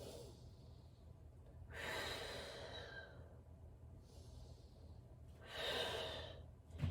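Slow, deep breaths in a yoga child's pose: two long audible inhale-exhale cycles, soft and close, with quiet pauses between them.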